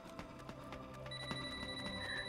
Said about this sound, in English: And now we get a lovely phone call from our mystery woman